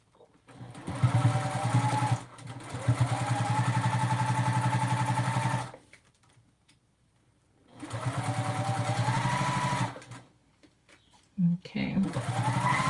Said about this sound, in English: And then now I can stitch.